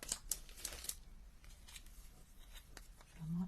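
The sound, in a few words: cutting card pieces in half with scissors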